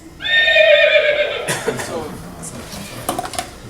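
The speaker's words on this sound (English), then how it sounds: "This is a horse." A horse whinnies loudly and close for about a second, followed by light clattering and knocking sounds.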